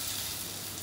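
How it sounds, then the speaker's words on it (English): Onion and mild curry powder frying together in a pan, a steady, close hiss of sizzling oil with no talk. "What is important here actually is that you fry the onion and the curry powder together for 30 seconds a minute."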